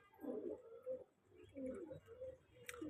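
Pigeons coo in a loft with squabs, low rounded repeated coos in several bursts across the clip, one near and fairly clear, with a brief faint chirp near the end.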